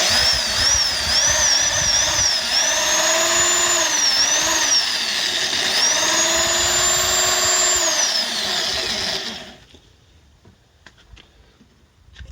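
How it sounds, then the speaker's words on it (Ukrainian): An old electric drill fixed to a modernized homemade juicing machine whines loudly and steadily with wavering pitch, then cuts off, leaving quiet clicks and handling noises. "тут ще причеплена стара дрель"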